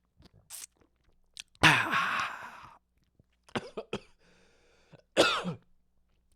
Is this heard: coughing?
yes